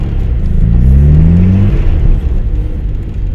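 Subaru Legacy accelerating hard while drifting on a frozen lake, a loud rising engine whine that climbs in pitch then eases off, with steady wind and tire noise beneath, close up.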